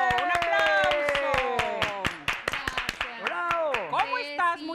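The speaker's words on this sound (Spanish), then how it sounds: "¡Un aplauso!" A studio audience on a Mexican TV variety show claps in quick, rhythmic bursts while loud voices cheer and call out over the clapping.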